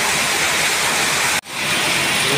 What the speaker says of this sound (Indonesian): Hujan sangat deras lah teman-teman di luangan kan.